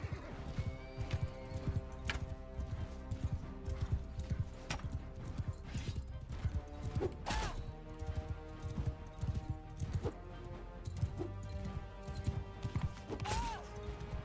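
Horse hooves clip-clop and gallop steadily in Mount and Blade II: Bannerlord battle, with whinnies and neighs breaking through, loud and continuous over busy game background with occasional crashes.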